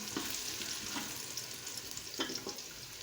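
Onions frying in a pan for chicken korma, browning with a steady close sizzle and occasional stirring scrapes, no voices.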